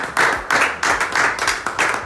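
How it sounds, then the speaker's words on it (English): Audience members clap for themselves at a business gathering of company founders, in bursts of dense clapping recurring about every half second, fairly close and steady with no talk over it. "we all need to clap for ourselves."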